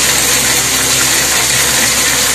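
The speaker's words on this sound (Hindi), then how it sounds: "तो पानी का प्रेशर कितना तेज है देखिए जरा" Strong, steady gush of high-pressure water pouring during a heavy monsoon downpour in Uttarakhand, a loud continuous rushing roar with no break and no voices.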